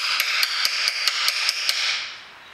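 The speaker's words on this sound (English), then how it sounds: "I'm not smacking it with the hammer because you don't need to." Light, evenly spaced hammer taps, about eight in a steady rhythm, press a new gearbox seal into a 2010 Ford Fiesta through a flat piece of metal, close and crisp in a garage, then fade out.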